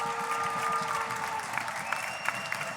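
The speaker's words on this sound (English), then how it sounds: "Let's give him a round of applause" An audience at the Hoosier Star 2021 show gives steady applause for an organizer, a broad continuous clatter of many hands with a sustained tone fading out midway and a few sharper claps near the end.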